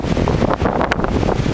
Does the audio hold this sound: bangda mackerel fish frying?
no